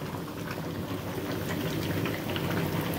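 A heating burner runs after a key adjustment on its gas valve, a steady soft roar with fine crackling bubbling texture, fairly quiet and continuous, no voices.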